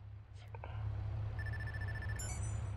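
A mobile phone rings in the open-world game Watch Dogs, a short run of steady electronic ringtone tones over a constant low game-engine rumble.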